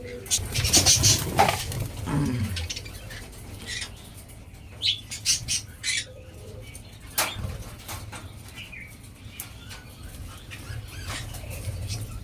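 Several caged birds waiting for food squawk and chirp close by in short bursts, some loud and harsh, between stretches of quieter rustling and low background hum.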